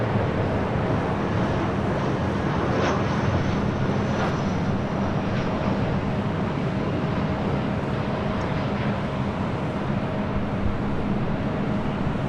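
Airliner arriving on runway 24 left at Los Angeles International Airport at night, heard as a steady broadband roar that swells slightly and holds throughout, with no talk over it.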